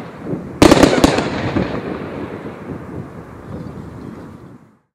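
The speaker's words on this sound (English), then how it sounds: "Western Sky is a great fan cake from Brothers" Western Sky, a Brothers fan cake, fires red and gold barrages: a sharp cluster of loud outdoor bursts followed by a long rumbling, crackling tail that fades out.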